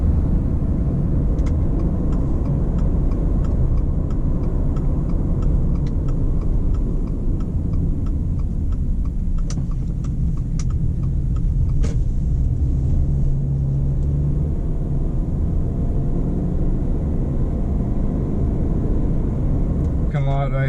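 A 2024 Subaru Crosstrek Wilderness accelerates, its engine droning with a steady low rumble from inside the cabin, road noise constant, with a faint ticking near the middle.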